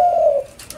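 A spotted dove gives a single loud, close coo, a short, smooth, hollow note that fades quickly in an otherwise quiet setting.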